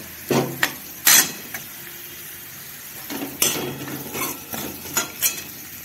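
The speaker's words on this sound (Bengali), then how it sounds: "এবার এর মধ্যে রাখলাম কুচি করে রাখা পেঁয়াজগুলো দিয়ে ভালো করে ভেজে নেব।" Chopped onions frying in a pan: brief hissing sizzle bursts and metallic clinks of a spatula against the pan, separated by quieter pauses.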